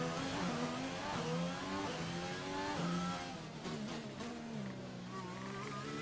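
A Formula 1 race car in the F1 2020 game screams through its engine revs on an out-lap at the Austrian circuit. The loud, close, continuous whine steps up and down in pitch as it changes gear.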